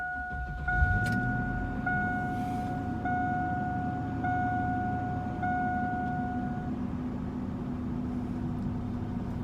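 A 2000 Chevy Suburban engine cranks over and catches, then settles into a steady, rumbling idle, while a two-tone chime beeps in a regular repeating pattern for most of the stretch.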